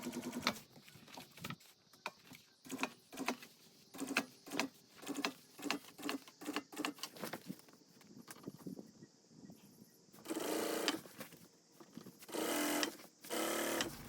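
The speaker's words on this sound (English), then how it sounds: "I like to sew it on and then create the seam because the vinyl does stretch a little bit" A sewing machine stitches a band onto a vinyl boat cushion, running in short rhythmic bursts of rapid needle clatter with brief pauses, then longer, louder runs near the end. Nearby and with no talk.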